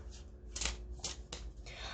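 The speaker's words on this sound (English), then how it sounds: "I'm going to go ahead and do my shuffle, and I'm going to draw my 5 cards" Tarot cards shuffled by hand, a series of close, crisp riffling bursts in an uneven rhythm over a low background hum, with no talking.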